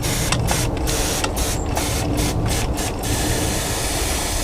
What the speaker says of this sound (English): give them a watering, very gentle to start with, so we don't blow the vermiculite into next week